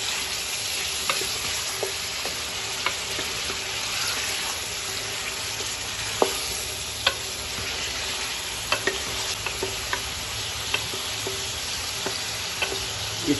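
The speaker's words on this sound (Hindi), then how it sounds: "इसको अच्छी तरह हमें भून लेना है, गोटे को अच्छी तरह फ्राई कर लेना है।" Meat sizzles in oil in a karahi while a utensil stirs it, giving steady crackling frying noise with scattered scraping clicks and taps, moderately close and continuous.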